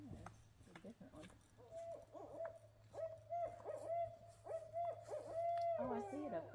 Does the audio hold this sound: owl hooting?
yes